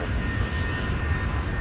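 An Airbus A310 jet departing Frankfurt airport on a charter flight, heard as a steady, loud broadband engine roar that holds constant throughout without any talk over it.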